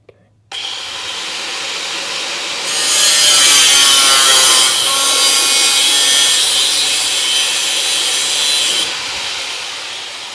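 Saw cutting through the metal rocker panel section of a crew cab Coronet, a steady loud rasping grind lasting several seconds that swells partway through, then drops off, close up with no talk.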